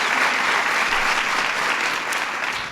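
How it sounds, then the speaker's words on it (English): A dense, steady round of applause from an event audience fills the whole stretch at close range, holding loud and even before easing slightly at the very end. "Give Kerry a big round of applause."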